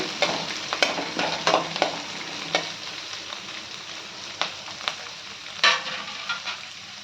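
Drumstick leaves and moong dal fry over a medium flame with a steady soft sizzle, punctuated by scattered scrapes of a spatula stirring the pan; no voices.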